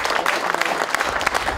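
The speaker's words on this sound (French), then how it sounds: "vous pouvez l'applaudir" An audience at a sailing event with skippers applauds, dense clapping from a crowd heard close and fairly loud, continuous for a short burst.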